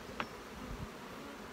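Honey bees buzz inside a cell builder hive box, a faint steady hum heard close, with a soft tap or two near the start and no voices.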